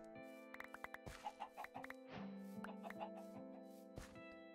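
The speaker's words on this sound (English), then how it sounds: "Chicken." A Minecraft chicken clucks in a run of short, quick blips, fairly close and clear, over a quiet game backdrop with a faint sustained tone.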